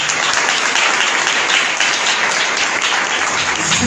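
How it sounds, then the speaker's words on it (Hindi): A crowd at a religious gathering claps hard and loud, a thick continuous roar of applause that stays strong from start to finish with no talking over it. "सब जरा जोर से ताली बजाएं।"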